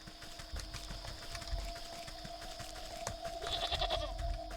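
A goat bleats in the video game Wytchwood, a couple of short wavering cries over soft game ambience and low background music.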